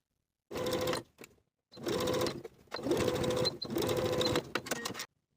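Sewing machine stitching bias tape onto a crossbody belt bag, running in four bursts of steady rapid mechanical whirring separated by short pauses, close and clear with no speech.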